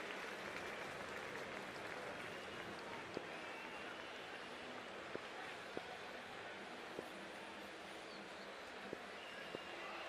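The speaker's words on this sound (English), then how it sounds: "already the crowd is up and about" Constant crowd noise fills a cricket stadium in an India versus West Indies one-day international video game, a steady roar and murmur with occasional faint sharp accents, no speech over it.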